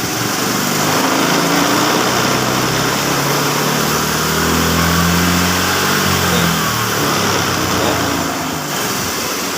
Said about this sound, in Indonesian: sekarang coba langsung kita naikkan RPM-nya ya